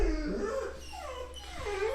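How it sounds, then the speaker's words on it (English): Indoors, a dog reacting to someone outside whimpers and gives short rising yips, faint and intermittent over a low room hum. "My dog's going crazy."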